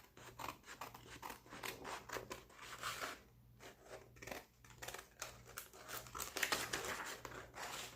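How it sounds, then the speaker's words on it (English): Scissors snip steadily through paper while a tulip-themed journal is made, with a run of quick close cuts, a brief pause, then more crisp snipping and some faint paper crinkling; no voices. "I'm just gonna cut it like this."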